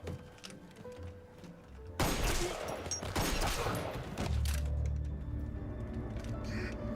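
Gunfire in a shootout scene from the TV series Fargo, season 2, a rapid burst of loud shots followed by a lower rumble, with quieter scene sound before and after.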